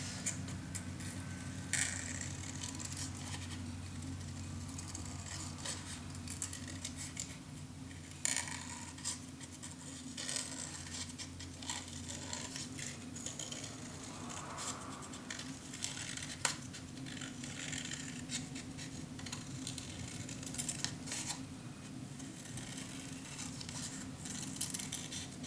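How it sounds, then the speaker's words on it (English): Scissors cutting through black cardstock at a crafting table, faint close snips and ticks spread irregularly over a quiet background hum, with no talking. "I glue it on black cardstock so I can cut it out."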